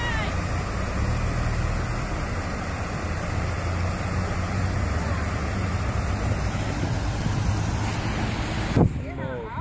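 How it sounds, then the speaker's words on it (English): Floodwater pours like a waterfall during heavy rain in Detroit, a steady loud rushing roar with wind buffeting the microphone, continuous throughout before cutting off near the end. "it's a waterfall down there."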